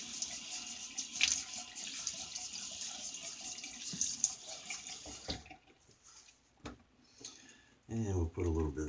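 Tap water runs steadily from a faucet into a sink while a man wets his face before a shave, the flow fairly close and even, briefly easing before a louder splashing burst at the end.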